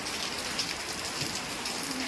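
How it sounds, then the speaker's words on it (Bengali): Steady rain falls on a Bangladeshi morning, a dense even patter of drops on surfaces, continuous and close with no gaps. "সকাল থেকে বৃষ্টি পড়ে যাচ্ছে"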